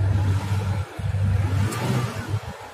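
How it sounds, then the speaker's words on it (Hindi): A car with an LPG changeover switch revs its engine as it shifts from petrol to LPG, a close, low rumbling idle that rises and falls in a few short blips, with a brief dip partway through. "थोड़ा सा मैंने आरपीएम दिया और ये एलपीजी पे कन्वर्ट हो गई।"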